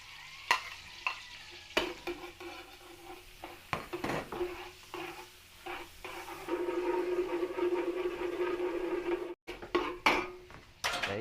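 Garlic sizzles in margarine in a pan, with sharp stirring scrapes and clinks of a utensil against the pan; the frying grows louder and steadier midway, close and clear, with no talking.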